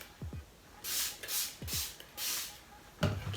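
A spray bottle mists water onto hair in several short, hissing bursts spaced about half a second apart, close and moderately quiet, with soft handling sounds in between.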